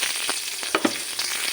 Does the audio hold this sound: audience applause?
no